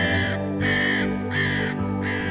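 Crows caw loudly in a steady rhythm, four harsh calls with short pauses between them, close by and with no talking.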